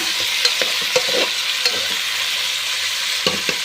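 Chicken and tomatoes frying in a pan for chicken biryani, stirred with a spoon: a steady close sizzle broken by several scraping strokes against the pan.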